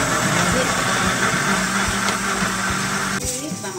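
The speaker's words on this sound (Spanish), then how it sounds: "en la licuadora ya están nuestros chilitos y el ajo y la cebolla bien doraditos" A kitchen blender runs continuously, whirring loud and close as it purees fried chilies, garlic and onion with a little water, then slows near the end.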